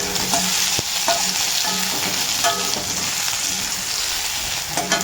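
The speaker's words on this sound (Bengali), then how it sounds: "রসুনটা দিয়ে দিলাম।" Crushed garlic dropped into hot oil with fried red chillies, giving a loud, dense, steady sizzle with a few light clicks of a spatula against the pan.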